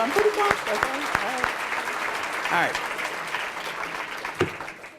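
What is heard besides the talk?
audience round of applause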